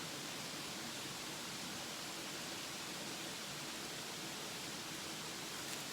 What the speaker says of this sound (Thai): เสียงนกก็เสียงน้ำไหลนะครับ